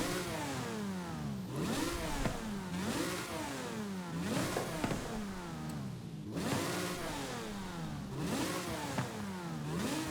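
A turbocharged drift car engine in a video game revs up hard again and again, about four rising sweeps with brief drops between them, loud and close with no voices.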